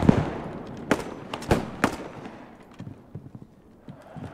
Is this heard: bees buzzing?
no